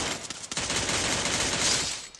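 Rapid gunfire from the Free Fire battle royale video game, a dense continuous burst of shots filling the whole moment, loud and close with no talking.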